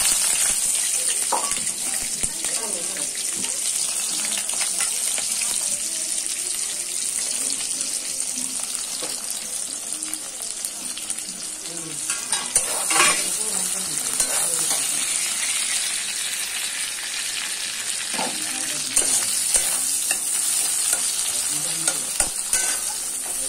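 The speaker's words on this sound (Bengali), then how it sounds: "পেঁয়াজটা ভালো করে বাদামি করে ভেজে নেবো 5 থেকে 10 মিনিট পর্যন্ত" Onions frying in hot oil in a pan for browning, a steady sizzle with repeated stirring and scraping scrapes over about twenty seconds, occasional faint voice in the background.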